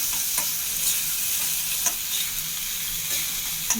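Continuous sizzling from a hot frying pan, with light scraping strokes as thick tomato chutney is stirred, close and fairly loud.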